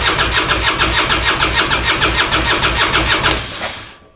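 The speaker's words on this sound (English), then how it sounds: "engine cranks, will not start" An early Harley-Davidson Twin Cam engine cranks in a fast, even rhythmic chug for about three seconds without catching, then the starter stops and the sound dies away.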